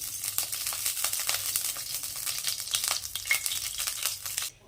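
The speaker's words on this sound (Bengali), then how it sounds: "কড়াইটি গরম হয়ে গেছে দিয়ে দেব সর্ষের তেল" Mustard oil sizzles and crackles steadily in a hot wok with scraping stirring sounds, close up, then cuts off abruptly.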